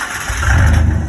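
A Chevy S10 pickup with no muffler revs hard for a moment, producing a loud, throaty, close-up engine roar that swells in a short burst.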